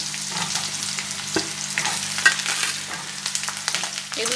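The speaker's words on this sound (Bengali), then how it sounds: "এবারে আমি সজনের ডাঁটা নিয়েছি আর বেগুন নিয়েছি এগুলোও দিয়ে দিচ্ছি" Drumsticks and eggplant fry with potatoes in a hot pan, producing a loud, continuous sizzle broken by the scrape and clatter of stirring.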